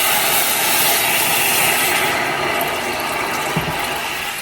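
Water pouring steadily into a heating pot on the stove for cooking rice, a loud close splashing rush that softens slightly toward the end, with no talking.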